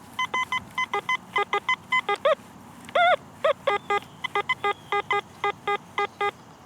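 A metal detector sounds a long run of short, evenly spaced electronic beeps with repeated two-tone chirps, loud and close, given off over a shallow target while detecting for coins and relics outdoors in Chattanooga.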